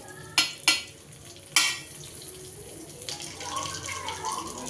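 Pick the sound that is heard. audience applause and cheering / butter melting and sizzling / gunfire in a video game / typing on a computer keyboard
butter melting and sizzling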